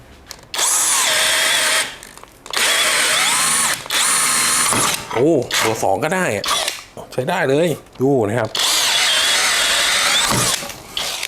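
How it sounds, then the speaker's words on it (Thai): A cordless impact drill in drill mode at top speed whirs loudly in several bursts, biting into wood up close, while someone talks between and over the runs. "แรงชาติเลยโหมดเจาะนะผมจะใช้กับเจาะไม้นะครับ"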